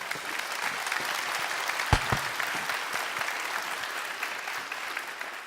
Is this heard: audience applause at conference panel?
yes